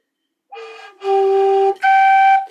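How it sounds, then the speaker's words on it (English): A flute plays a short run of clear, sustained tones, the pitch leaping by an octave as more notes follow; three steady notes stand alone with no talking. "And maybe that's better to show you on the flute,"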